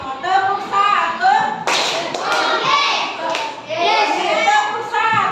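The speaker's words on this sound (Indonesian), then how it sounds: "Tepuk satu." Children in a classroom clap in a group rhythm, short bursts of hand claps mixed with chanting voices, loud and close with a teacher leading a call-and-response clapping game.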